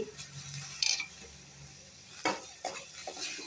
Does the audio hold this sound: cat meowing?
no